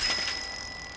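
Bell on a new bicycle rings once, bright and metallic, then fades over about a second with no voices.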